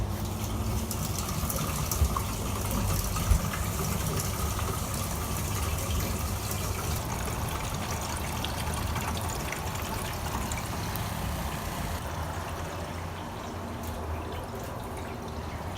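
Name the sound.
water filling a home water treatment system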